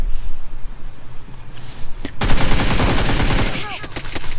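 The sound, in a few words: gunfire in a video game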